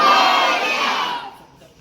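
Crowd at a dhol-tasha troupe ceremony roaring a Ganpati Bappa chant in unison, one loud sustained shout that fades away at the end.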